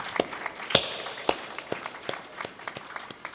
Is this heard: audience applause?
yes